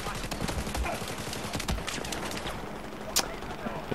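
Rifle gunfire in Battlefield 4 crackles as a rapid volley of sharp shots over dense game noise, with a louder single crack near the end.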